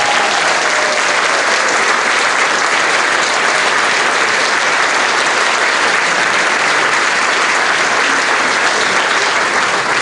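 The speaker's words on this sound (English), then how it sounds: "Give her a round of applause, guys." An audience at The Villages applauds teacher Miss Emily Keeler during a Shades Of Blue Orchestra show, a steady, loud wash of many hands clapping that fills the whole stretch without letting up.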